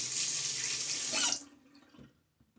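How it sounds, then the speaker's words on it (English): A tap runs hard as a razor is rinsed under it: a loud, steady close gush of water that stops after about a second and a half, leaving faint drips and small handling knocks. "And a little bit of a rinse."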